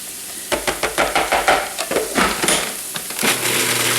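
Rhythmic scraping of a spoon or spatula across a hot pan of sizzling paella, a quick series of close, repeated strokes over a steady frying hiss.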